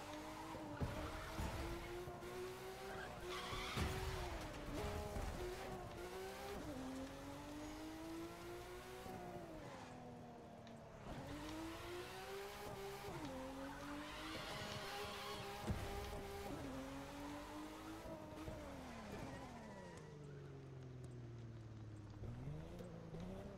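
A car in The Crew 2 drifting, its engine revving and whining up and down while tyres squeal and skid in long sweeping slides, steady and close throughout.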